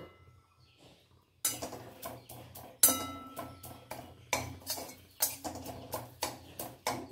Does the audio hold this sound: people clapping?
no